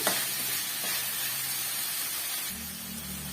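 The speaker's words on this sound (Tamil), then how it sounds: "ஓரளவுக்கு வெங்காயம் நல்லா வதங்கி வரட்டும்" Onions sauté in a hot pan for a ghee-based side dish, a steady broadband sizzle with occasional scraping stirs, fairly close and continuous, no voices.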